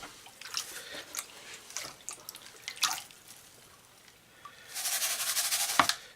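Water and gravel slosh and clatter in a gold pan in faint, uneven swishes, then build into a louder burst of rushing, swirling water toward the end.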